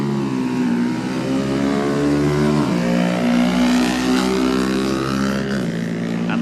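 Several classic racing motorcycle engines rev loudly together at the start of the 2019 Junior Classic TT race, their pitch rising and dropping with gear shifts as the bikes pull away.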